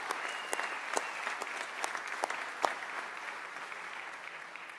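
Applause from the audience at the Mississippi State of the State address greets the state supreme court justices: a soft, distant, sustained patter of many hands with a few sharper claps standing out.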